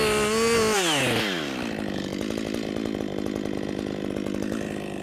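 A chainsaw cuts wood with the top of its bar, its engine revving loud and high before dropping into a steady, throbbing cutting drone under load.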